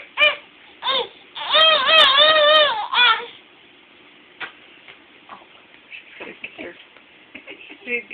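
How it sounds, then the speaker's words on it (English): An infant gives several short wailing cries, loudest and most sustained in the first three seconds, then fainter whimpers and fussing sounds follow, heard up close indoors. "That was the crying sound that she was making earlier"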